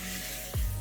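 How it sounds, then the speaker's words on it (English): Chicken pieces dropped into hot oil in a pan give a broad, steady sizzling hiss with a brief louder burst partway through, close and fairly loud, with no talk over it. "So the oil's hot. We're just now going to add our chicken in."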